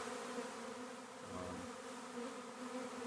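A honeybee swarm fanning pheromones while moving into empty hive equipment gives off a steady, low, dense buzz, faint and continuous, with no voices.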